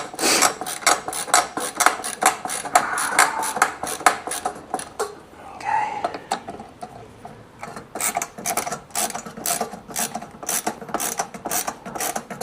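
A long screw in an old Dell computer case is turned and tightened, giving close, repeated ratcheting clicks and scraping rasps in an uneven rhythm, with a short pause partway through.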